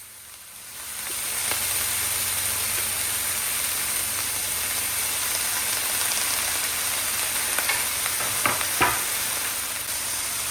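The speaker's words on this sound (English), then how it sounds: "In this I am adding chopped kale." Chopped kale sautéing in a hot pan with golden-brown onions and turmeric, a steady broadband sizzle that swells in over the first second and holds loud and even, with a few brief clinks of stirring near the end.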